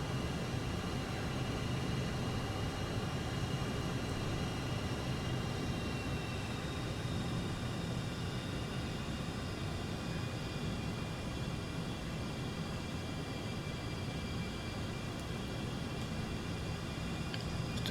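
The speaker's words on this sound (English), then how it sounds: "Rev up the engines a little bit, just keep it above 200 knots" F-4 Phantom II jet engines in Microsoft Flight Simulator produce a steady, broadband roar with a faint whine on top. The sound holds constant and close for the whole stretch, with no one talking over it.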